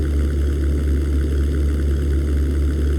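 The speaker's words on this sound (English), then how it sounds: "These are single engine aircraft" Single-engine fighter aircraft in the 1998 flight combat game European Air War drone with a loud, steady, low engine rumble, with no talk.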